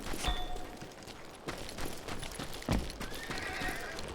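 Galloping hooves and a horse whinny from Call of Juarez Gunslinger, set against a busy game soundscape with sharp impacts that may be gunfire; a neigh comes through near the middle, with no voices.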